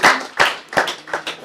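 An audience claps at a Rwandan engagement ceremony, with about five loud, close bursts of hand claps arriving in an uneven rhythm.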